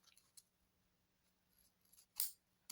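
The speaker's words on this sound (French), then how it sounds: "Je vais prendre mon ciseau et je vais couper." Scissors snip through paper for a scrapbooking card, a few faint clicks followed by one crisp, louder cut close by in an otherwise quiet room.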